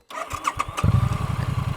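A Triumph Bonneville motorcycle engine cranks and catches, settling into a steady, throbbing idle close by, with no talk over it.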